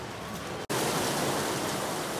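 Torrential rain from Hurricane Lisa pouring down as a steady, dense broadband hiss, cut by a brief dropout before resuming at full strength.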